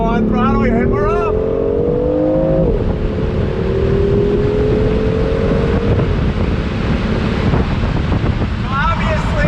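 A 2019 BMW i8 Roadster plays its simulated engine note while accelerating with the top down, a loud steady drone rising in pitch and then levelling, heavily mixed with wind rush across the open cabin.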